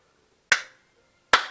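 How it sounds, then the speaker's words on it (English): Two separate, sharp hand claps roughly a second apart, close and isolated in silence, slow and deliberate like sarcastic applause. "Sarcastic clapping."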